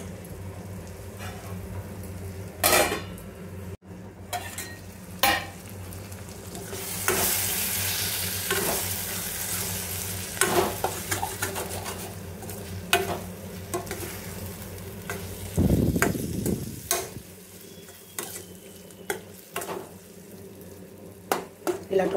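Tomatoes fry in a pan for tomato curry with a continuous sizzle, punctuated by repeated spoon scrapes and clanks against the pot and a louder burst of stirring partway through.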